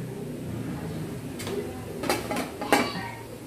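A frying pan and dishes clatter during household washing-up, a few close metallic clinks and knocks breaking through a steady background murmur near the end.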